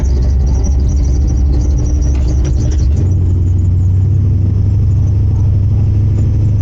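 A drag racing car lays down a burnout at the NHRA ET Finals, a loud continuous engine roar with deep rumble that shifts to a steadier low drone partway through.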